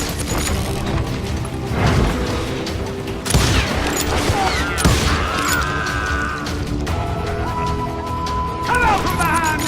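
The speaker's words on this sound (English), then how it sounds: "They're shooting in the street!" A street shootout in the Western video game Call of Juarez: Gunslinger, with repeated loud gunshots and crashing impacts among music and game effects, plus bits of voice.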